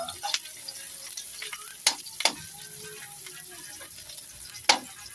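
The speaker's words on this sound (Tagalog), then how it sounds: "Gidigisa ko na po yung sibuyas, bawang at saka luya." Onion, garlic and ginger sauté in a pan ahead of a crab dish, giving a quiet steady sizzle broken by a few sharp clinks of a spoon against the pan, with no talking.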